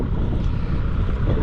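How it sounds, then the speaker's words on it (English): Wind blowing outdoors at a farm cattle corral, a steady, loud rumbling gust buffeting the microphone with no other clear sounds. "My goodness, the wind is kicking up now"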